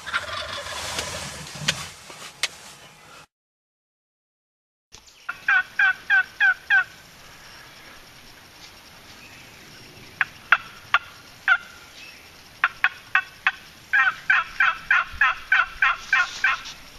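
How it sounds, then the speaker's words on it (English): Turkey call gobbling used outdoors on a hunt, sharp rapid bursts of gobbles repeated in clustered series with short gaps between, fairly close and clear over a quiet background. "Turkey calls, not just for turkeys anymore."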